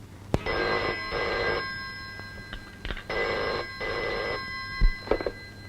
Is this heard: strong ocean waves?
no